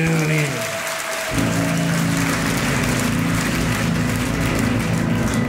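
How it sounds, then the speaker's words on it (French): An audience at a 1990 stage show in France breaks into loud, sustained applause after a brief spoken introduction, and the dense clapping continues steadily to the end. "On l'applaudit bien fort."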